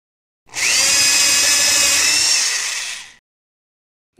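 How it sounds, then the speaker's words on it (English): A power drill bores into a tree in a children's video game, one steady high whirring burst of about two and a half seconds, loud and close, then silence. "First, drill a hole in the tree."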